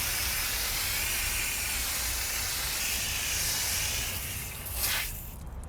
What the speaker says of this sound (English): I'm gonna start off this process by rinsing down the wheel.